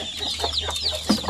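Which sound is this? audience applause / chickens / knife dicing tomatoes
chickens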